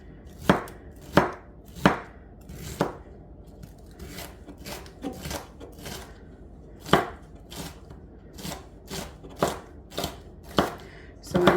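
A knife dices peppers and onions on a cutting board, giving sharp, close chops in uneven bursts with short pauses between strokes and no one speaking.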